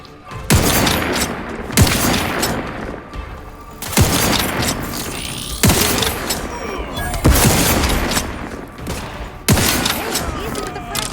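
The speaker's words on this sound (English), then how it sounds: "Target analyzed. Lay down fire." Gunfire in The Outer Worlds 2 video game: repeated loud bursts of shots and booming impacts, spaced every second or two across the whole stretch, with game voices speaking over the combat.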